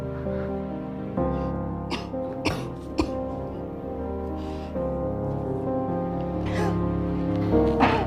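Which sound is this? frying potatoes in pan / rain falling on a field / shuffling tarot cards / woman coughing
woman coughing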